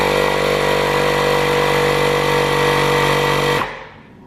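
A Milwaukee compact inflator runs loud and steady with a dense motor-and-pump buzz for about three and a half seconds, then cuts off abruptly into quiet.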